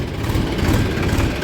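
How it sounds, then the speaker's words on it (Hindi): A tractor engine runs with a steady low rumbling drone, close and fairly loud, with no voices over it. "बिट्टू भाई का ट्रैक्टर भी आ गया है आगे से"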